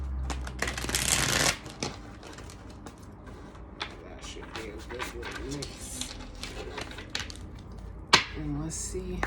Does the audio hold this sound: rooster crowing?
no